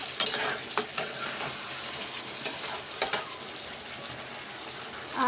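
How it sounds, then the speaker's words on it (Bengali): Meat sizzles in a pan while a spoon scrapes and clinks against the metal in irregular stirring strokes; moderately close, no voices. "এখন একটু কষিয়ে নিই তারপরে জল দিয়ে দেবো"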